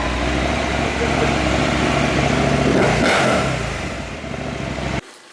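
A KTM 790/890 Adventure motorcycle with its catalytic converter removed, the exhaust running loud and close with a rough low drone and a brief rev swell before cutting off at the end.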